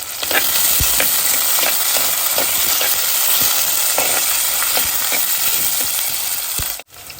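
Loud, close frying of shallots with coconut pieces in hot oil for a mushroom roast: a dense, continuous sizzle with repeated spatula scrapes and taps throughout, then an abrupt brief dropout near the end.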